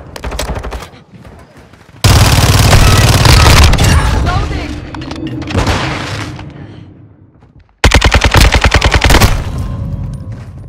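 Gunfire in the video game Modern Warfare II during a Team Deathmatch: loud bursts of rapid automatic shots separated by quieter stretches, with booming impacts and dense action noise between the volleys.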